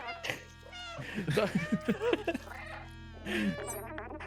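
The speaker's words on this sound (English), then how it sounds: "We've got another random cutscene here with a cat." Cat vocalizations in a cutscene from the video game Stray: several drawn-out meows and chirpy cries over a low steady game background hum, fairly close and clear.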